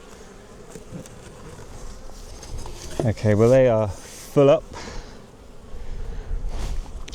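A packed early-spring production hive gives off a steady, close buzz of many honey bees, with someone speaking briefly over the hum midway.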